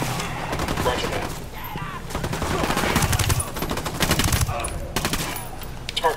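Gunfire from the video game Tom Clancy's Ghost Recon Wildlands: dense, loud bursts of shots and rapid automatic fire run throughout, with game voices faintly underneath.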